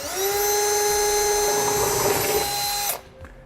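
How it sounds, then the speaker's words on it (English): An electric drill boring a half-inch hole in a truck frame for a fifth-wheel hitch whines steadily at high speed for nearly three seconds, then cuts off abruptly, leaving a brief quiet tail. "I'm going to come back with a 1/2 inch drill bit and finish drilling my final hole"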